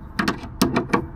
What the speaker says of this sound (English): Can we get the ratchet in there?